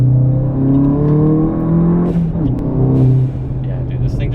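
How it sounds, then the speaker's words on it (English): Volkswagen Golf GTI hot hatch with a stage 2 crackle tune, about 320 hp, engine droning steadily from inside the cabin with a rising whir and a few faint pops as it comes off the throttle. "it also does have a stage 2 crackle tune on it too, so you get those nice little burbles as you are decelerating or off the throttle"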